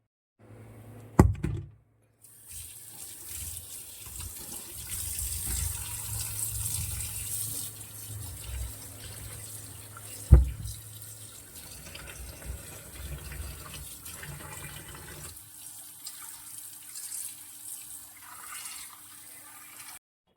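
Tap water runs steadily into a sink while fish are washed, with a couple of sharp knocks near the start and midway, the flow faint and continuous before quieting toward the end.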